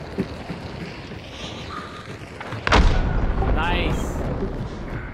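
A hellfire shot in the game Hunt: Showdown fires as one loud, sudden blast with a sharp onset, then a rumbling tail that sustains under game noise. People talk before the shot.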